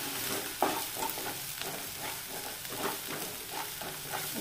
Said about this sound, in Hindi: मसाले को ध्यान से अच्छी तरह से भून लेंगे